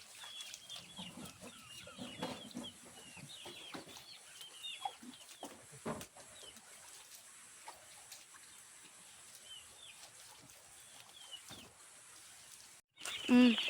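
Chickens cluck and chatter softly at a distance amid scattered rustling and small knocks, with a brief louder burst near the end.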